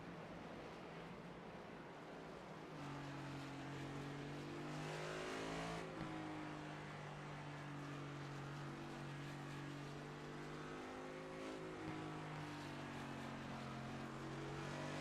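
Several race cars lapping Suzuka in the iRacing sim, with steady engine drones that shift pitch as they pass and rise and fall, a continuous loud roar throughout.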